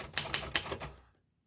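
A 1956 Remington Cicero manual typewriter with a Dutch keyboard types a quick burst of four crisp key strikes, close and clear, before falling silent.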